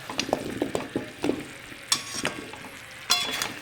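Amla and jaggery syrup with ghee being stirred in a pan: light clinks and scrapes of a spoon against the pan under a soft sizzle, close and fairly quiet, with no talking.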